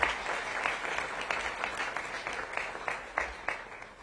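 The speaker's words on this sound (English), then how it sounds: "Can I get a round of applause of MBYLI?" Applause from the audience at a youth employment program launch in DC, a moderately distant round of clapping with a few sharper individual claps standing out, fairly even throughout.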